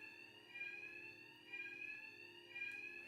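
An alarm in the video game Batman Arkham Knight rings continuously as a steady, shrill electronic tone with a faint periodic warble, quiet and alone, no voices.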